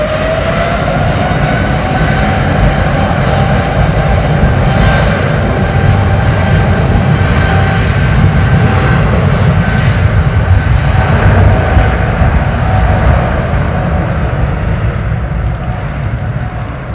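Airliner powering up and taking off at London Heathrow, a loud sustained jet roar with a rising whine that stays strong throughout and eases slightly at the close.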